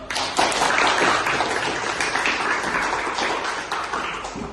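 A classroom of students applauds during a science lesson on making ice cream, a dense wash of many hands clapping fairly close, steady for several seconds with some voices mixed in.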